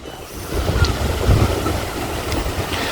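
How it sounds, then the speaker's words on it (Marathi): Strong wind buffets the microphone on the Alibaug seashore, a loud, continuous roaring rush with faint surf beneath and no clear talk. "खूप जोरात वारा चालू आहे."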